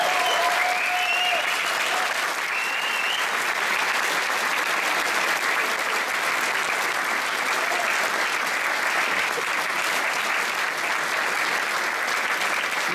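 A concert audience in Montrichard applauds a percussionist with loud, sustained clapping that fills the room steadily and does not die down.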